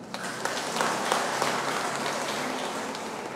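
Loud, sustained applause from a church congregation at a novena Mass, a dense steady clatter of clapping hands filling the space for several seconds without speech.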